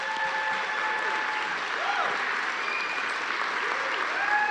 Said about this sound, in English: Round of applause for all these guys and girls.